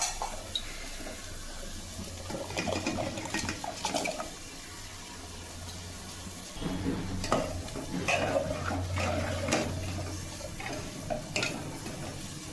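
Gobindobhog rice goes into nearly cooked dal in a pot for khichuri, with wet stirring, sloshing and scraping against the pot over a soft bubbling simmer, close and moderately loud.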